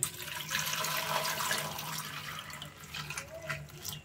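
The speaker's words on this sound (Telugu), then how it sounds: "ఇప్పుడు దీంట్లో కాస్త నీళ్ళు పోసుకొని ఉడికించుకుందాం." Water splashes and trickles into a pot of chopped raw banana for pressure cooking, in an uneven, quiet stream, close by, with faint background noise and no talking.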